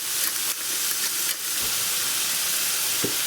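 A whole white onion fries in melted butter in a pot, giving a loud, steady sizzle and hiss with occasional soft bumps of stirring, close and uninterrupted, with no talking.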